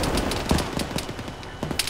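Rapid machine gun fire in a military video game, rattling out in quick repeated bursts at close range and fairly loud, with no talk over it.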